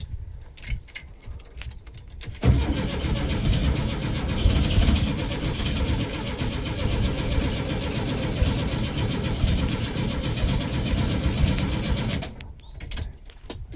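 A VW Type 2 engine, primed with carb cleaner, cranks for about ten seconds without firing: a loud, close, continuous churning starter drone that begins abruptly and cuts off, with quiet handling noises before and after.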